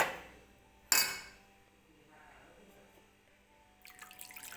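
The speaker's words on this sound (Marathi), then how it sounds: "मी मिक्सरच्याच भांड्यात थोडंसं पाणी ओतून घेऊन ह्याच्यामध्ये टाकणार आहे" A sharp clank of a mixer jar is followed by quiet handling, then water pours from the jar into a tomato mixture with a near, splashing rush at the end.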